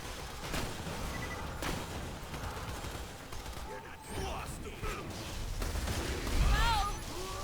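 Gunfire in the video game Borderlands 2, fired at a sheriff perched out of reach in Lynchwood: repeated sharp shots and bursts over a busy, noisy game mix, with a player talking.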